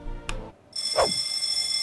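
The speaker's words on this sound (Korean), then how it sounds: "요란한 경보음이 들렸다" A loud alarm blares in a Korean mystery adventure game, Gray City 2, set off by a pressed alarm button: a brief burst, a pause, then a sustained shrill ringing tone that continues steadily to the end.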